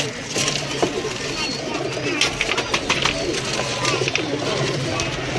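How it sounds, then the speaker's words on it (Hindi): Pigeons cooing at a rooftop breeder loft in Lahore, a steady chorus of soft, overlapping coos close by, with scattered wing and bird sounds and a voice speaking now and then over the flock. "ये तमाम कबूतर हैं जी, इनके ब्रीडर कबूतर हैं।"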